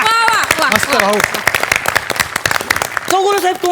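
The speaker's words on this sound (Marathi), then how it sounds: "टाळ्या" An audience clapping at a comedy show, brisk applause from many hands heard close up under loud voices of people talking and exclaiming over it.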